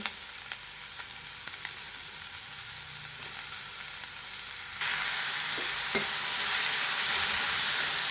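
Onion and green chilies frying in sunflower oil for chicken samosa filling: a soft, steady sizzle that jumps abruptly louder and hissier midway as the vegetables hit the oil, with a few faint clicks, no talking.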